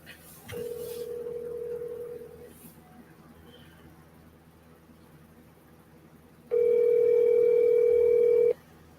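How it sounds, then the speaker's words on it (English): Phone call being placed: a steady dial tone, then a pause, then a louder two-note ringing tone held for about two seconds, fairly close. "I'm finna call Champ"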